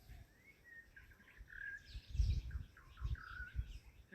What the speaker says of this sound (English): what I'm listening to is the sound of the white-rumped shama